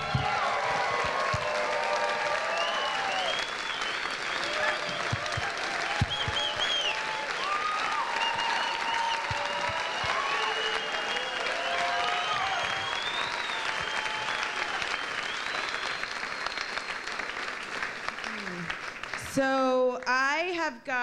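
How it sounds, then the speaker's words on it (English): An audience at Seabury Hall in Maui gives sustained applause, a loud continuous wash of clapping with voices calling out over it, ending as a speaker begins talking. "Can we just give another huge round of applause to these two people?"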